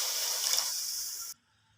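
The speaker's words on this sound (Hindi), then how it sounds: "तो चाशनी बनाने के लिए हमने थोड़ा सा पानी" Water is poured from a vessel onto sugar in a pot to make syrup for a sweet rice dish, a close, bright splashing stream lasting just over a second before cutting off abruptly into near silence.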